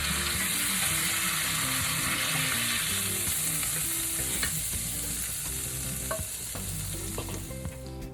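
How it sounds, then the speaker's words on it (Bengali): Ribeye steak fries in a hot pan with brown sugar, giving a steady, loud, close sizzle and crackle with small pops throughout. "এভাবে করে আমি একে একে সবগুলো স্টেক ফ্রাই করে নিব।"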